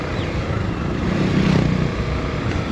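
A motorcycle riding along a road, its engine a steady broadband drone close by that swells briefly midway before settling, with no talk over it.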